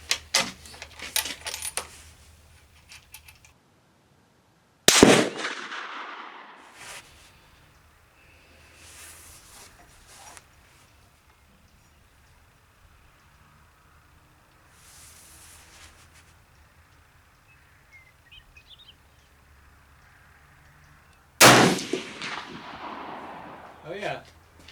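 Two sharp, loud rifle shots from a Remington 700 at an outdoor range, spaced well apart, each a hard crack with a ringing decay, with quieter handling noise and faint background between them.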